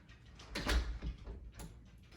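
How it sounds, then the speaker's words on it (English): A repaired sunroom door slides open and shut, a soft scraping rumble with a couple of light knocks, fairly close and quiet. "So we're gonna test the door out to see if it works."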